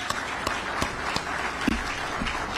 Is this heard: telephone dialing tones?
no